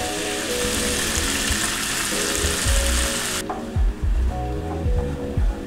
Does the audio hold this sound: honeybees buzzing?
no